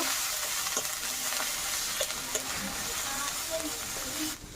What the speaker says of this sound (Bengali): লঙ্কার গুঁড়ো দিয়ে দেবো, গোলমরিচের গুঁড়ো দিয়ে দেবো, হলুদ গুঁড়ো দিয়ে দেবো, ভালো করে একটু কষে নেব